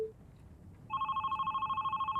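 A telephone rings in the video game Love, Sam, starting suddenly as a steady electronic warbling trill that pulses rapidly and continues over a faint low background hum.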